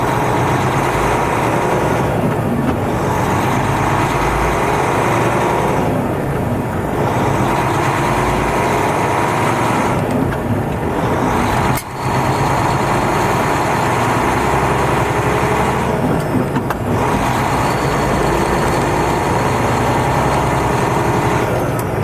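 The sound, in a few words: heavy haul truck diesel engine running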